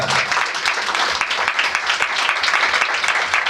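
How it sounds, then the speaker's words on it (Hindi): A church congregation claps together, loud and close, in a brisk dense burst of hand claps that runs steadily for a few seconds without talk. "जोर से एक बार ताली बजाए उस परमेश्वर के लिए"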